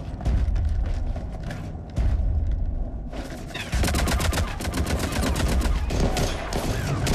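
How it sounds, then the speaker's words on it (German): Dense automatic gunfire in the sci-fi shooter game Mass Effect 3, loud rapid bursts and volleys continuing throughout with heavy booms, no pauses in the firefight. "Oh, schießen die auf mich?"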